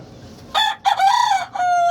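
A white fighting rooster crows nearby, a loud, drawn-out cock-a-doodle-doo in several stretched segments, clear and alone.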